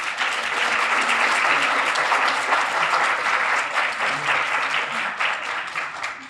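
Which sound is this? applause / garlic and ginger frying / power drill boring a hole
applause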